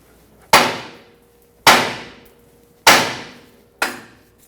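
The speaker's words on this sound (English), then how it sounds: "Hammer the knuckle right here to separate the tie rod from the knuckle." Four loud, evenly spaced hammer blows on a steel steering knuckle of a 2000-2005 Ford Excursion to free the outer tie rod, each a sharp metallic strike with a ringing decay, with no talk between them.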